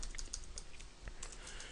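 Faint, rapid keystrokes on a computer keyboard, typed in quick irregular bursts of light clicks with no voices.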